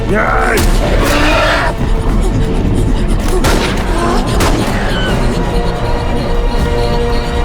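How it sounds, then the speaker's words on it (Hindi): Gunfire in a video game sounds as repeated booming shots and crashing blasts over a loud, busy soundtrack, with several heavy bursts in the first half and a continuous din throughout. "चलाओ चलाओ यार, बंदूक का इस्तेमाल करो।"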